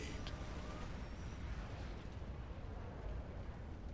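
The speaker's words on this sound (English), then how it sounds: "Love the bombs." Bombs exploding during a StarCraft II campaign mission, heard as a steady, dense low rumble of blasts with no clear gaps, loud and continuous throughout.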